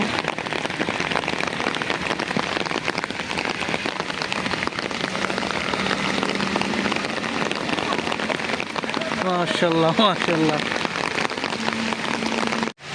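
Steady heavy rain pours down on surfaces during Ramadan before iftar, a dense unbroken hiss filling the whole stretch, while someone speaks briefly over it.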